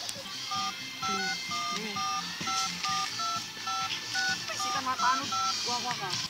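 Telephone dialing in an old radio drama: a run of regular two-tone keypad beeps repeats steadily over several seconds, loud and close, with a voice and background music underneath.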